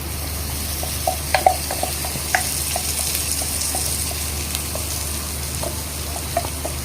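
Ground masala being mixed into a pan of Tamil Nadu style mutton curry, a low steady sizzle with scattered soft clicks and spoon taps, close and without talk.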